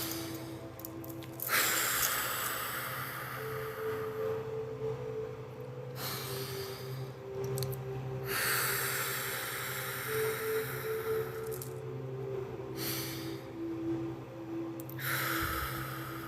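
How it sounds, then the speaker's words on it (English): Deep breathing during a relaxing Reiki session: slow inhales through the nose and exhales through the mouth, several long airy breaths in a row, close and soft over a low background hum. "Deep breaths in through the nose, out through the mouth."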